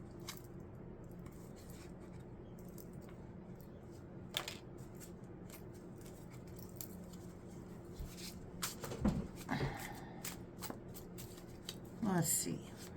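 Tarot cards are shuffled and drawn close by in a quiet room, with soft riffling, brief slaps and scattered shuffling bursts, the loudest near the end, under a faint, low-level voice.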